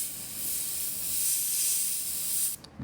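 An airbrush sprays paint onto a T-shirt in a steady, close hiss that runs almost three seconds, then sputters and cuts out briefly near the end.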